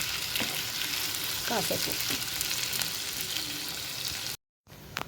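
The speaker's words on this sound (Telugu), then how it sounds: "ఇందులోనే మనము 2 టమాటాలు మీడియం సైజ్వి నూనెలో ఫ్రై చేసుకోవాలి" Two medium tomatoes fry in oil with onions for a soya chunk masala curry, giving a dense, close, steady sizzle with a few spatula scrapes, then a brief full silence before the frying resumes.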